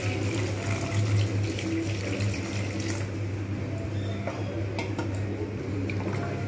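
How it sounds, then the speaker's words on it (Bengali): Room-temperature water pours into a pan of partly cooked chandramukhi potatoes for a vegetarian papad curry, a steady close splash and trickle with faint clinks of cookware. "এবার আমি এতে জল দিয়ে দেবো"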